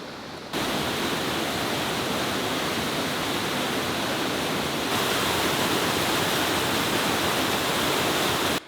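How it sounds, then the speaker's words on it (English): A waterfall on a river in Algonquin backcountry during early spring ice-out pours out a steady, loud broadband roar, close and unbroken, swelling slightly partway through, with no voices over it. "I hear another waterfall."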